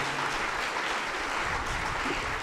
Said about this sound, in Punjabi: ਰਿਬਨ ਖੋਲ੍ਹਿਆ ਜਾਊਗਾ ਤੇ ਨਾਲ ਹੀ ਜ਼ੋਰਦਾਰ ਤਾੜੀਆਂ